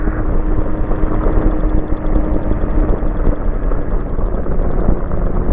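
Magni M16 gyrocopter engine droning steadily in flight near Strathalbyn, a loud continuous buzzing hum with rotor pulsing, close and unbroken, with no talk over it.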